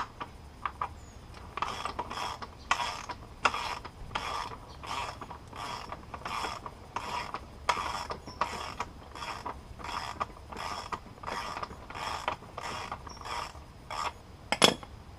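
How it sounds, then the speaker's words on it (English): A wrench with a 24mm socket working a lock nut off a Trail Ripper axle, a regular run of sharp ratcheting clicks repeated in quick bursts, close and alone with no talk. "remove the lock nut, then slide your axle just far enough so you can lift up the fender"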